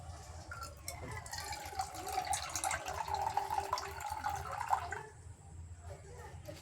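Alkaline water pours from a water jug in a steady, moderately loud stream for about five seconds, then tapers off to quiet room tone.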